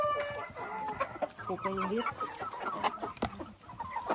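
Chickens cluck and murmur close by in a backyard poultry setting, with short overlapping calls running throughout while people talk over them.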